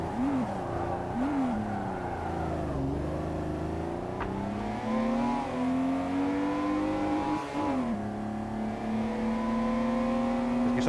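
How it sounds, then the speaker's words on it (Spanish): A video game car engine drones and revs continuously, pitch rising and falling as it accelerates and shifts, steady and fairly loud throughout. "Solo escucho tu puto coche, Islof"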